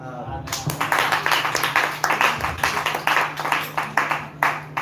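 Applause and clapping from a crowd at a church gathering in Côte d'Ivoire, honoring Muslim brothers during their fast: steady, dense rhythmic claps sustained throughout, with voices mixed in.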